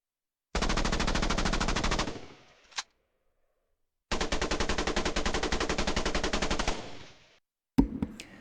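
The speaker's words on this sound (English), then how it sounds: "So of course that is a rapid fire machine gun." Two long bursts of AI-generated rapid-fire machine gun shots, loud and dense, each cutting off abruptly, followed by a short sharp crack at the end.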